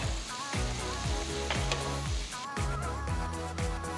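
Onion, garlic, green chili, curry leaves and tomato sizzle in a hot pan, a steady frying crackle broken by repeated scraping stirs at a regular rhythm.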